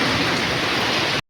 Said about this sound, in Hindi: और बारिश बहुत तेज़ आई है, बहुत तेज़।